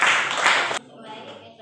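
Audience applause closing a question-and-answer session: a brief burst of many hands clapping that stops sharply, leaving a faint, quiet room behind it.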